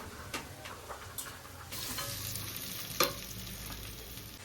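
Vegetables sizzle and fry in a pan on a home stove, with intermittent stirring taps and scrapes of a utensil, then a louder steady sizzle as more ingredients go in; a sharp clink near the end.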